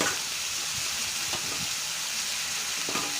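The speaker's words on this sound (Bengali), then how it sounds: "কুমড়োগুলো দিয়ে একটু সাঁতলে নেব ভালো করে" Pumpkin and potato pieces sautéing in a pan with onion, salt and turmeric, a faint steady sizzle with occasional soft stirring scrapes.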